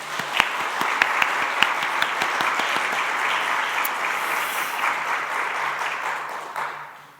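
A church congregation gives teachers a warm round of applause, dense clapping swelling quickly and holding steady for several seconds before fading out, fairly loud and with no talking over it.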